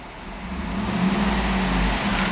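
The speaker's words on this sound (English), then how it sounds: "the car is running and idling perfectly" A 2009 Cadillac Escalade ESV AWD idles steadily, a low continuous engine rumble with a faint hum, holding even and close throughout without talk.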